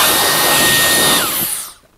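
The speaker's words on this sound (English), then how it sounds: "Let's do some more vacuuming." A handheld vacuum cleaner sucks dust off a surface near a laptop, a loud steady whine that drops in pitch and cuts off at the end as the motor stops.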